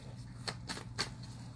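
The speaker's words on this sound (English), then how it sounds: "So I love the cards that's coming out in the pre-shuffle right now." Tarot cards shuffled by hand, giving a few short, crisp riffling bursts at uneven intervals over quiet room hiss, with no talking.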